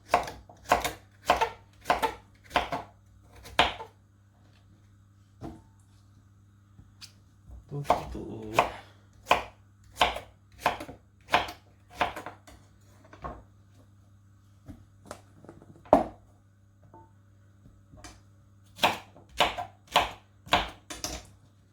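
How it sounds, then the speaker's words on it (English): A knife chops pumpkin steadily on a cutting board, sharp regular thuds in bursts with short pauses, close and clear. "just be careful when you're chopping it up"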